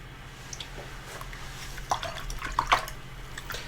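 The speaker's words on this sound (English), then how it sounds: "So I clean my brush" A paintbrush swished and rinsed in a water jar during a watercolor and gouache session, soft drips and small splashes, quiet and close, with a few sharper clinks near the end.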